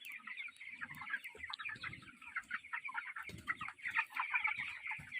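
Chickens cluck continuously inside a poultry farm shed, many birds overlapping in a busy, close chatter with steady background noise and no talking.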